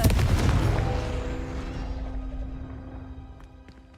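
A Confringo blasting spell in Hogwarts Legacy goes off as one loud, booming explosive burst, its heavy rumble slowly fading over several seconds with a faint ringing tail.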